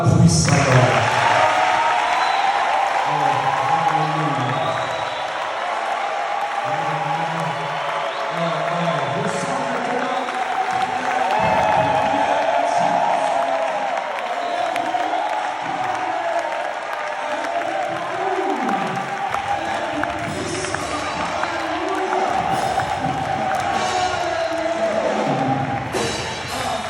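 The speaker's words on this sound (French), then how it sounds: "Maintenant, je veux qu'on l'acclame puissamment." A church congregation cheers and applauds, steady clapping mixed with shouts and voices that keeps going for the whole stretch.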